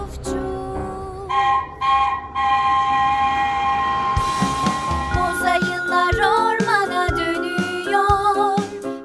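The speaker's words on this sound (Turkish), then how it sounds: "Trenlerin sesi çuf çuf çuf." A train passes with a loud horn blast, sustained tonal whistling over rumbling wheels and clanking cars, the sound shifting and pulsing as it moves, with no talking.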